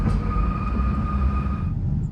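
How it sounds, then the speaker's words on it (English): Narrow-gauge train running along a railway in Spain, a steady loud rumble of wheels and carriage with two sustained high squealing tones from the wheels that fade near the end. "we're just one of 2 trains per day squealing westward"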